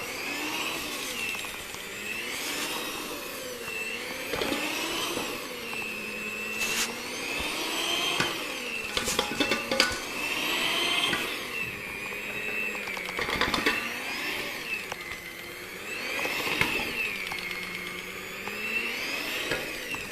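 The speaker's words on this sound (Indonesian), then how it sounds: "Oke, lanjut mixer." An electric hand mixer kneads donut dough with a steady whirring motor whine that rises and falls in pitch as the beaters work, close and continuous, with occasional clatters and no talking.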